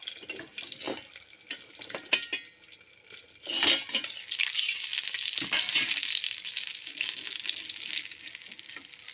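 Fish wrapped in bottle gourd leaves fries in a pan, with a close sizzling hiss that swells and eases alongside a few clinks and scrapes of the utensil, with no voices.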